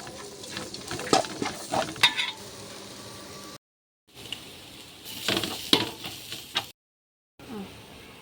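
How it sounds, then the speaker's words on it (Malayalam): Chopped onions sauté in a pan for a chicken biryani, a close crackling sizzle broken by rhythmic stirring scrapes and spoon clatter, cut by two brief gaps of silence. "ഇതിലേക്ക് നമ്മൾ കൊത്തി അരിഞ്ഞ് വെച്ചിരിക്കുന്ന സവാള ചേർത്ത് കൊടുക്കാം സവാള നല്ലോണമൊക്കെ ഒന്ന് വഴറ്റി എടുക്കണമേ"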